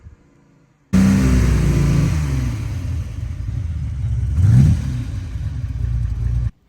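A 1964 Ferrari 330 GT 2+2 with a 3-litre V12 fires up abruptly and settles into a loud, close, busy idle, gives a short rev blip partway through, then cuts off.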